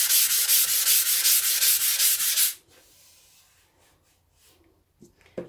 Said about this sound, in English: it's just a quick rub over